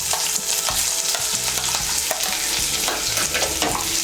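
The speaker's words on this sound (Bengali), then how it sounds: "পেঁয়াজ কুচিটাকে তেলের সঙ্গে মিশিয়ে নিয়ে হালকা করে একটু ভেজে নেব" Chopped onion frying in oil in a pan for lau shaak chochchori, a bright continuous sizzle with frequent scraping stirs and utensil knocks throughout, close and loud, with no talking.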